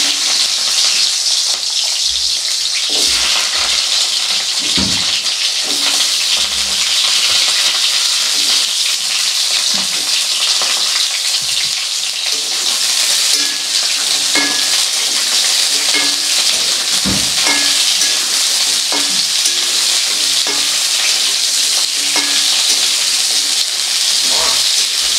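Drumstick (sajna) stalks fry in hot oil, giving a loud, steady sizzle and hiss that runs unbroken with scattered pops and a few low clunks of stirring.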